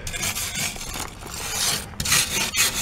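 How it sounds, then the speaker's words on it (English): A wire brush scrubs loose rust off a trailer hitch in quick rasping strokes, close and alone, with short pauses between the bursts of scraping. "So I'm going to take a wire brush and remove all the rust that's loose."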